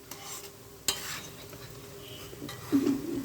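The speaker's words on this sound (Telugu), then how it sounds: "దీన్ని ఇలా స్టిర్ చేసుకుంటూ ఉండండి." Onion paste being stirred in a pan while cooking fish pulusu, with soft scraping strokes, a sharp utensil knock near the start and a louder clatter near the end, close by and quiet.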